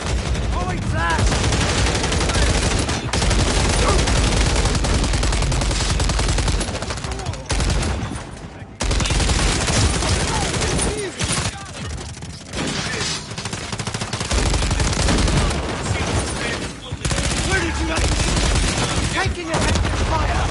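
Heavy, relentless gunfire in Call of Duty MW3: dense bursts of automatic weapons and explosions on a small map, loud and close, barely pausing over twenty seconds, with voices shouting faintly beneath the din.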